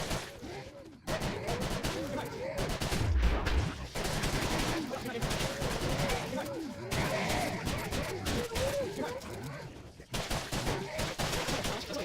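Rapid gunfire in Killing Floor as zombies are shot on the farm map, dense bursts of repeated shots with brief pauses, loud and close, with game voices and groans mixed in.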